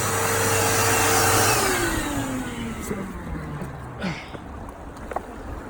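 A vacuum cleaner working a garden pond during cleaning of a DIY upward-flow gravel filter runs loud and steady, its motor pitch sliding downward as it winds off over a few seconds, leaving quieter water noise.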